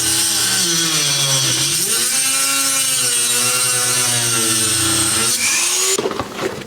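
A Dremel rotary tool cuts through a plastic intake flange on a Subaru Legacy wagon, a loud, close, high-pitched whine that dips and rises in pitch as the load changes, then stops near the end.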